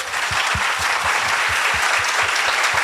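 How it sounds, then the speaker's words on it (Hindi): Loud, dense audience applause in a hall at a talk on Hindu epics and philosophy, sustained clapping from a large crowd with rhythmic low thumps running throughout. "मुझे इतनी जोर से तालियां बजाइए कि स्काई तक आवाज जाए प्लीज"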